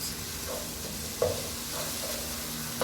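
Biryani ingredients being stirred together in a cooking pot, with soft scraping strokes and a faint steady sizzle, a few louder clinks of the spoon against the pot standing out.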